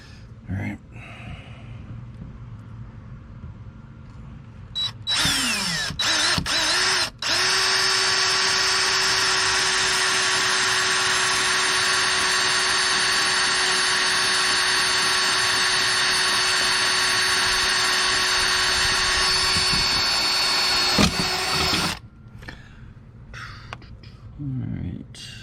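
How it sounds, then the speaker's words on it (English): A small power drill bores into a front splitter rod on a Ford Focus ST with a tiny bit, a loud steady whine running about fifteen seconds after a few short starts, close up, with brief talk before and after. "I'm going to drill right into the splitter rod with this tiny drill bit to get the hole started"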